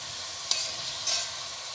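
Green chilies fry in hot oil in a pan, a steady sizzling hiss broken by a couple of scraping stirs of the spatula, close and moderately loud with no talking.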